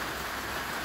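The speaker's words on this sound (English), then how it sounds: "it's a beautiful rainy day here in Texas" Steady rain pours outside on a Texas day, a dense even hiss of drops hitting surfaces, continuous and fairly loud with no voices.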